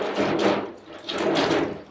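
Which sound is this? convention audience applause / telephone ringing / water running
water running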